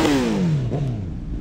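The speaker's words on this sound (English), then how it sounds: "Got the motorcycle game out here." A motorcycle at a car meet revs and then lets its engine pitch fall steadily, a loud close whine dropping off, with crowd ambience behind it.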